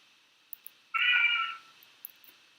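A cat gives a single clear meow of about half a second, fairly close, amid faint background hiss and a few small clicks.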